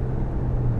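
Steady low rumble of road noise inside a car on an AI-controlled self-driving ride in China, a constant engine-and-tyre drone with no talk over it.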